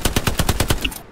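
Machine gun fire from an MG in the World War II shooter Hell Let Loose rattles off in a fast, even burst of about nine loud, close shots, then cuts out.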